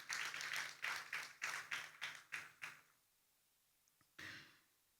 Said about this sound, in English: please let's welcome him with a resounding applause